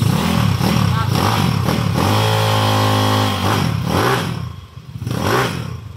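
A 199cc motorcycle engine revving repeatedly, with throttle blips rising and falling and a sustained high rev in the middle, loud and close.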